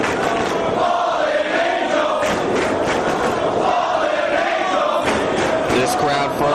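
A Ring of Honor wrestling crowd roars behind Christopher Daniels in his match with CM Punk, a loud, sustained arena din of chanting and cheering with rolling swells.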